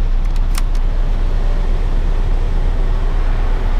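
A car engine idles steadily just after being started, with the air conditioning switched on; a loud, continuous low rumble fills the recording, with a few brief high clicks near the start and no talking.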